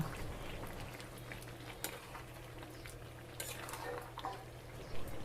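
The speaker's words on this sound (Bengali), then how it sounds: "ভাজা আলুটা মাংসের সাথে কষিয়ে নেব" Fried potatoes sautéed with meat in a pan make a soft, steady sizzle, with a few light clinks and scrapes of a spoon against the pan, quiet and close, without any talking.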